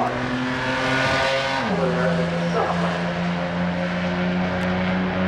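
Two Mopar drag cars, a 1964 Dodge Dart and a 1962 Lancer, race heads-up at the strip, loud engines droning with steady harmonics that dip sharply as a gear shift hits, then pull on at a sustained roar.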